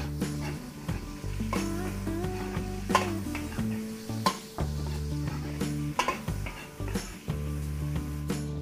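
Onions frying in a pan with already cooked garlic for a large Filipino home-cooked meal, a steady sizzle broken by repeated stirring and clanks of a utensil against the pan, with music-like tones running underneath.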